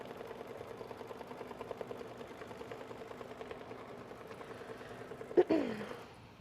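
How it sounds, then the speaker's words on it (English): An embroidery sewing machine runs a tacking stitch for a star holiday ornament, a steady rapid mechanical chatter held close and even throughout, ending in a brief louder clunk near the finish. "you can go ahead and run your your tacking stitch"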